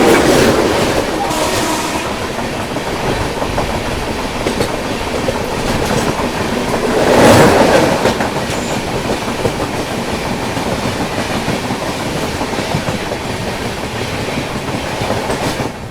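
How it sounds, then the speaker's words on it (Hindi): The Kerala Express, running from New Delhi to Thiruvananthapuram, rushes past at night near Gwalior with a loud, close, continuous rumble and rhythmic wheel clatter, swelling briefly midway, then rolling on steadily. "सामने से आ रही है आप लोगों की न्यू दिल्ली से चलकर तिरुवनंतपुरम की ओर जाने वाली केरला एक्सप्रेस आती हुई"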